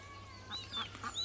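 Ducks at a pond give a few short honking quacks, several separate calls spread across a brief moment against a low steady background hum.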